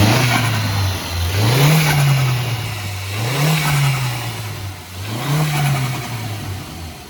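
A Stage 2 tuned Skoda Octavia vRS with valvetronic exhaust revs repeatedly in three rising surges over a steady idle, with a throaty exhaust and crackling pops between pulls.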